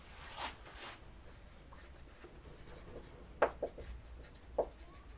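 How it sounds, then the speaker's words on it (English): A pen scratches quietly on paper in short strokes, faint and close, with a few brief taps and soft rustles spread across a quiet room. "let me write using the other pen"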